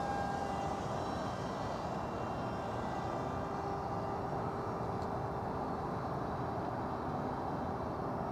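Mantaray Boomer RC plane lifting off, a steady distant electric motor drone with a faint whine, fairly quiet and unchanging throughout.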